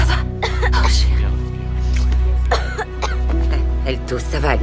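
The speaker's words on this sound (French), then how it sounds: "Elle tousse, ça va aller maintenant, c'est fini." A girl coughs in short bursts over a steady background hum, with a few throat-clearing sounds mixed in; no clear talk.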